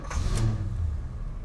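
A 1975 Oldsmobile Delta 88 Royale engine turning over and settling into a low, steady idle, heard from inside the car, with a brief higher whir at the start and no talking.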